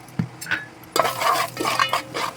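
A spoon stirs turmeric and red chilli masala in a pan for crab curry, giving a faint early knock, then a louder run of scraping, clinking strokes that continues to the end.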